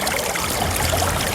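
Water flows steadily at Kondapalli waterfall, a continuous rushing and trickling close by with a low rumble beneath.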